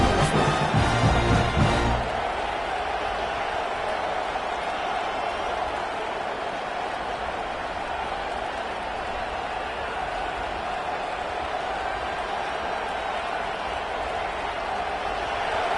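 A big stadium crowd at a football game roars steadily in the distance, a broad sustained wash of cheering with a brief burst of louder noise at the start.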